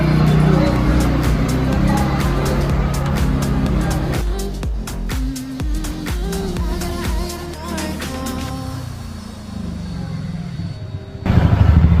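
A TVS Ntorq 125 scooter runs on a test ride after its first service, a continuous, fairly loud engine and road noise with varying pitch, mixed with ambient traffic and some talking.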